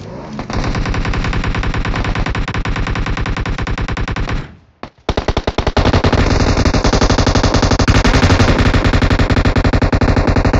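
Rapid machine gun fire bursts out loud and close, breaks off briefly partway through, then resumes in dense sustained volleys.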